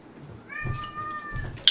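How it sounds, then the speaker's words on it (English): A house cat gives a clear, drawn-out meow close by, a single call followed by a brief sharp higher sound at the end. "It is a blessing to hear meow from a cat."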